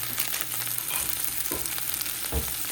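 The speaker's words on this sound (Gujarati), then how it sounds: "હવે નાખીશું આપણે મેગીના પેકેટમાં જે મસાલા આવે એ" Maggi noodles sizzle and fry in a pan as the packet's masala is stirred in, a steady close crackle with a couple of soft scraping stirs and no voices.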